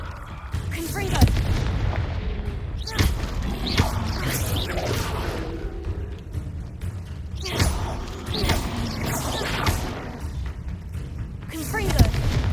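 Explosive fire spell blasts in the video game Hogwarts Legacy, with repeated heavy booms and thuds over a dense rumbling game backdrop, and a voice calling out between the blasts.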